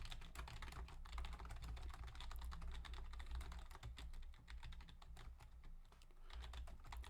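Someone types rapidly on a computer keyboard, a dense, continuous patter of close key clicks with no talking.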